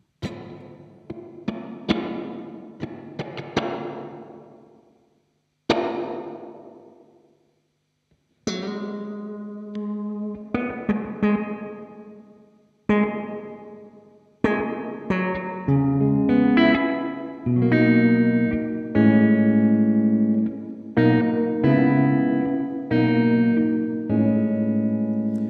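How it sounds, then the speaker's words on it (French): Electric guitar played through a TC Electronic reverb pedal with spring, plate and hall modes: picked notes and strummed chords ring out with long reverberant tails, sparse phrases at first, then denser continuous playing, loud and alone. "mix et reverb qui doit agir sur la longueur de l'effet, et 3 reverbs différentes, spring, plate et hall"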